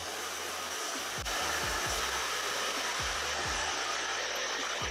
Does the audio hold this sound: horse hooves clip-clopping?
no